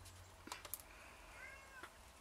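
A house cat meows a few times in a quiet room, short rising cries close by, with faint rustling and light tapping in the background.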